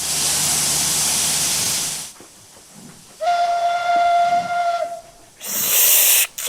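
A steam locomotive on a heritage railway lets off a loud, sustained hiss, then sounds a clear steady whistle for under two seconds, followed by another burst of hissing steam.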